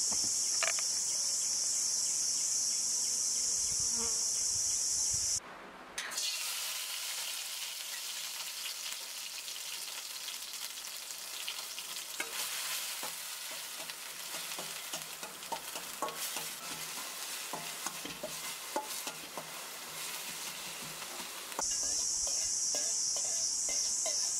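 Ginger, garlic and onion sizzle in hot oil in a pan, a loud continuous frying hiss with crackles and stirring scrapes throughout, and no talking.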